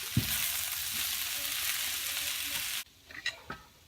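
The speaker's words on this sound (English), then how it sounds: "I'm going to add the mushrooms back in to saute with the rest of the vegetables" Mushrooms and other vegetables sauté in a pan for a vegetarian lasagna, a steady close sizzle with occasional stirring knocks that cuts off abruptly near the end, leaving a few quiet clinks.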